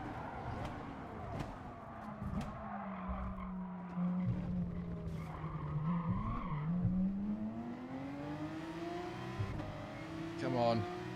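Race car engines droning and shifting pitch in GT Sport during the final laps of a daily online race, with tire squeal and cars passing close; a voice talks intermittently over the steady engine noise.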